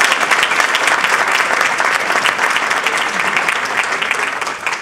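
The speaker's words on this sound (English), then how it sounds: "Don't clap me" Loud, dense applause from a conference audience fills the room, a continuous wash of many hands clapping that holds steady and eases slightly at the end.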